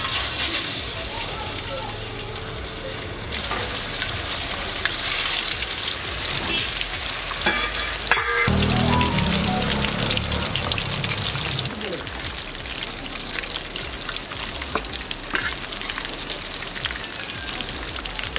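Pomfret fish coated in masala sizzles and crackles steadily in hot oil at close range, a dense rain-like frying hiss with occasional handling clatter and someone talking over it.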